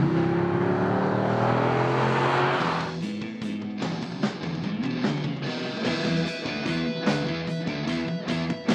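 A Chevrolet SS V8 sedan revs hard and accelerates, engine note climbing loudly before shifting through gears with rising and falling pitch, heard from inside the car with no talk.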